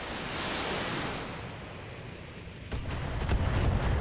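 Missile salvo launched by a Kraken mech in the turn-based game BattleTech: a steady roaring rush of noise, then a burst of sharp cracking impacts near the end, with no talk.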